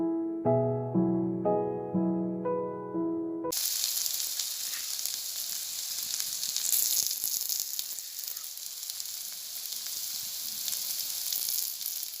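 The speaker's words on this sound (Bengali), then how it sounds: "আলু উচ্ছে ভাজা হয়ে গেছে" Potatoes and bitter gourd sizzle and crackle steadily in hot oil, a loud continuous frying hiss after a short musical intro.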